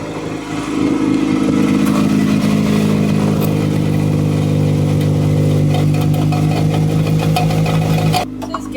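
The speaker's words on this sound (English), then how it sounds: "the exhaust is kind of clanky" An Acura Integra GSR brought back after sitting runs at a steady idle, loud and close, with a rough, clanky exhaust note droning evenly before cutting off near the end.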